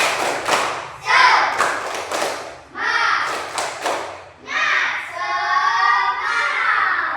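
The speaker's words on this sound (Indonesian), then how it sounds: "Ibu mau kalian semua tepuk semangat dulu" An elementary class claps a rhythmic spirit cheer on a teacher's cue, bursts of claps in a patterned beat mixed with children's chanting voices, fairly close and lively.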